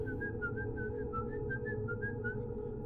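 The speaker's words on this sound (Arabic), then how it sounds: "ماشي بيصفر بهدوء وبيدخل أوضته" A person whistles a calm, gentle melody of short repeated notes over a steady low background hum.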